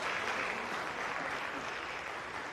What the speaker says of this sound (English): I can guess you want to clap so.